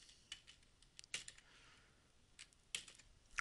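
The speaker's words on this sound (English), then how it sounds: "I'm going to type in the flexibility score by just clicking on the location of the first flexibility score" Keys tapped on a computer keyboard while a formula is typed into a spreadsheet, a few quick clicks in scattered bursts with pauses between, close and fairly quiet.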